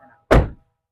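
Silver 2004 Isuzu Panther LM car door slamming shut once, a single close, heavy thunk with a short solid tail, after a brief faint murmur.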